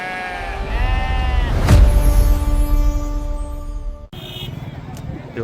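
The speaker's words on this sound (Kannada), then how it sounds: "ಇವತ್ತು ದುಗ್ಗಾವತಿ ಕುರಿ ಮಾರ್ಕೆಟಿಗೆ ಬಂದೇವೆ ನೋಡ್ರಿ" Several sheep bleat loudly and repeatedly at a busy livestock market, close wavering cries overlapping one another, with crowd noise and a passing vehicle in the background.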